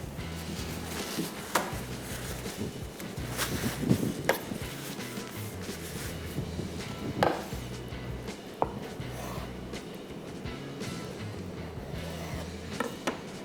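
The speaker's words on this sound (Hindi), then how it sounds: "इसमें अब डालेंगे बॉइल्ड स्लाइस किए हुए अंडे और इनको भी हमने स्लाइस में काट लेना है" A knife slices boiled eggs on a board in a kitchen while dhaba karahi is prepared, giving a few sharp cuts and taps spread over steady background clatter and hum.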